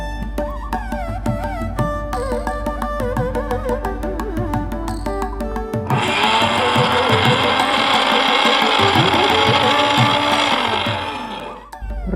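A mixer grinder whirs loudly while grinding garlic and coconut for chutney: a steady motor drone rises into a harsher, fuller roar partway through, then winds down at the very end.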